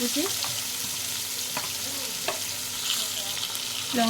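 Onion paste and chopped green chili frying in oil in a pan, giving a steady, close hiss and sizzle throughout, broken by a few soft clinks and scrapes of a stirring spoon.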